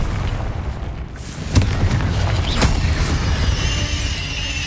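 A Confringo fire-blast spell bursts in Hogwarts Legacy as a sharp boom over a dense rumbling game soundscape, followed by a couple of lighter impacts.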